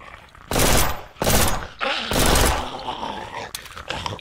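Shotgun fire in the video game Ancient Warfare 3, a few loud, close, broad blasts at roughly half-second spacing, each ringing briefly, followed by softer scattered noise.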